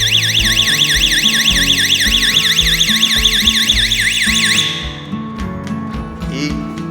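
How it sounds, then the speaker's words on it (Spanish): An automated school bell driven by a relay board rings as a loud, steady electronic warbling tone for about five seconds, then cuts off abruptly and leaves a quieter background. "Está a punto de sonar el timbre."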